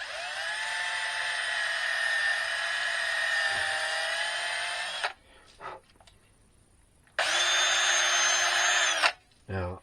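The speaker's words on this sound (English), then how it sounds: "I'm going to give it a test and drill through just a piece of pine I had." A power drill bores through a piece of pine, a loud high whining run for about five seconds, a short pause with faint clicks, then a second burst of drilling.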